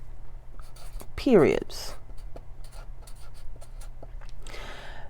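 A marker writes on a board in a quick run of short scratchy strokes, close and fairly clear, with a person speaking briefly between the strokes.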